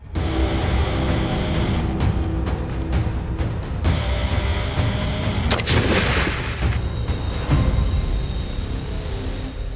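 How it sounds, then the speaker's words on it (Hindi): Weapons firing during a military exercise, loud, close and repeated blasts in a rapid irregular barrage with heavy booming reports and sharp cracks. "फायरिंग उसी वेपन से की जाती है जो पूरे 60 घंटे हमने कैरी किया होता है।"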